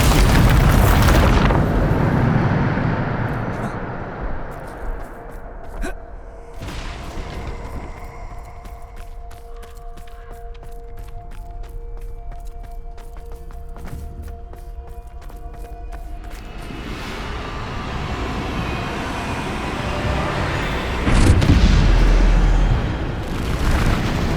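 Bombarda explosion spell in the Hogwarts Legacy video game, heavy booming blasts at the start and again near the end, with a quieter stretch of ringing, crackling debris and lighter pops between.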